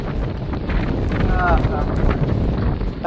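Strong wind buffets the microphone in a steady low roar during light rain at a campsite, with faint voices and brief tonal sounds mixed in.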